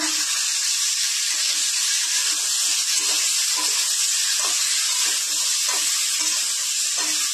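Mixed vegetables — cauliflower, pumpkin, sweet potato, flat beans, peas and bay leaves — fry in a pan for a Bengali moong dal dish, giving a steady, loud sizzle with faint repeated stirring scrapes throughout.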